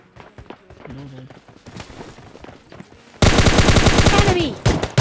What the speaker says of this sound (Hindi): तो फटाक से गन उठाते और बजाना शुरू करते हैं।